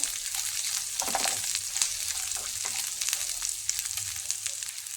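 Chopped onion and green chili sizzle in hot oil for a curry, a continuous close crackle with scattered pops and occasional stirring scrapes, steady throughout without speech.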